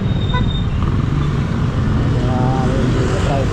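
A tricycle, a motorcycle with sidecar, passing on a rough, congested road on the way to Blue Rock, a loud engine rumble amid traffic noise with a faint voice nearby.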